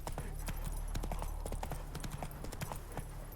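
Horse hooves clip-clop at a steady gallop rhythm in The Witcher 3 video game, close and continuous under a low engine-like hum, with faint game background throughout.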